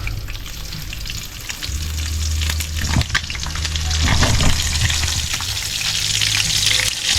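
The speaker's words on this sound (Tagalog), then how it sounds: "prito lang tayo" Food fries in hot oil with a loud, continuous sizzle and crackle, stirred now and then, alongside a low steady hum.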